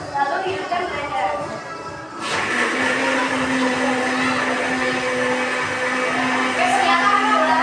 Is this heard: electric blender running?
yes